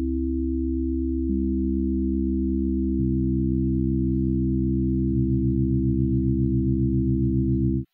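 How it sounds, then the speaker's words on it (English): Steady electronic sine tones from a tone-generator app, layered as combination tones: a low drone with stacked pitches that shift in steps, ending in a rapidly pulsing beating tone, loud and continuous with no talk. "When I play the combinational tone, I get more combinational tones."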